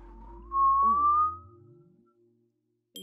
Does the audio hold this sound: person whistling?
yes